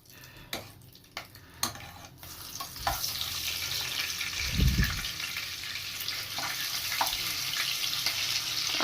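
A spoonful of butter drops into hot chicken-flavoured oil and starts frying, a few sharp taps first, then a steady close sizzle that swells and holds to the end with no talking.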